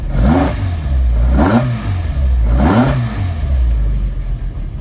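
The engine of a Matra Djet 5 S revs three times in steady succession, each rise and fall loud and close over a constant rumbling idle.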